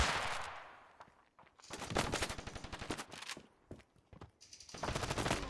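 Gunfire in the mobile shooter game Standoff 2, rapid automatic bursts and single shots crackling in clusters, fairly quiet overall with dense firing at the start and end.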